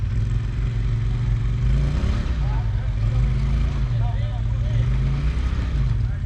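A Polaris RZR side-by-side on Portal gear lifts and 35-inch tires spins its wheels on a hill, its engine droning steadily and rising and falling, with people talking over it.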